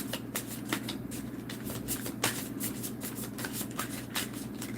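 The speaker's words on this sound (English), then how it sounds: "one more shuffle through" Tarot cards being shuffled by hand during a reading, a continuous riffling patter of soft card slaps with brief louder snaps, close and steady, over a low background hum with no talk.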